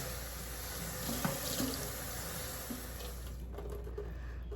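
Steady running tap water splashing continuously into a basin, fairly close, rinsing soap out of a doll's hair, with no voices over it.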